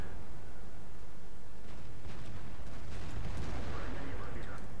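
A tank cannon booms in World of Tanks during a fight with an IS-3: a dense, loud stretch of rumbling game noise with a heavy blast and crackling bursts partway through.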